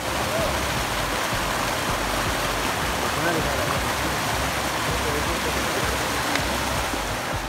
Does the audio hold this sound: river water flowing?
yes